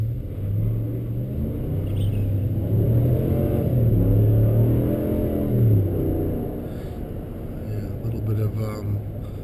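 A 2021 Dodge Ram Bighorn 4x4 pickup's engine rumbles steadily from inside the cab while driving, a low continuous drone with mild rises in revs, as a voice talks over it.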